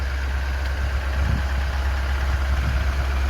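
A 4.5-litre diesel engine idles steadily with a deep, even low rumble, close by and continuous throughout, with no talking.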